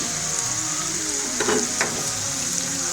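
Sliced onion and potato fry in a pan for an omelette, a steady close sizzle running throughout with a couple of brief stirring scrapes midway.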